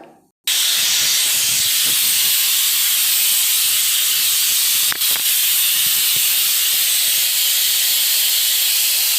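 A pressure cooker on the stove, cooking vegetables, lets out a long, loud, steady hiss of escaping steam that holds for about nine seconds.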